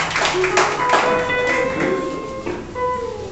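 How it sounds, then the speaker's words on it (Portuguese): A church congregation claps together, uneven hand claps rising and fading over a few seconds while voices speak and call out over them. "Aplauda o Senhor Jesus nessa noite por essa palavra"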